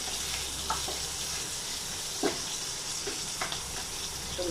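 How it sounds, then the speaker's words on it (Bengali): Dried red chillies and onion fry in a pan for a pumpkin mash, giving a continuous gentle sizzle with occasional light stirring clicks, no voices over it. "শুকনো লঙ্কা দিব, পেঁয়াজ দিব, একটু ভেজে নিব"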